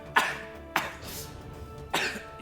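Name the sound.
voice imitating a cough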